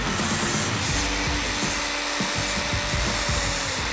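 Grinder taking material off a laser-cut metal brake pedal mount part, a loud continuous abrasive rubbing and whirring that dips briefly in the middle before resuming, with no speech.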